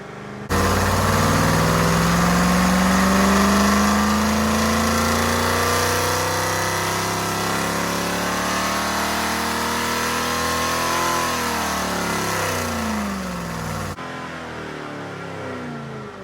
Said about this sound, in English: let the engine rev to preset RPM, which in this case is 5100 RPM